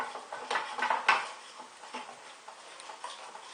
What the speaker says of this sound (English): we're going to start ladling in